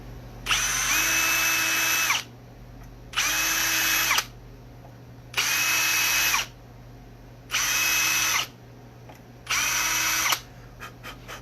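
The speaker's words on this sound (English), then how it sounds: "My drill bit is marked with tape. The last thing I want to do is drill through the headstock." A power drill boring tuner holes into a guitar headstock whines in five separate, evenly spaced bursts of about a second and a half each, close and clear, with short quiet pauses between them.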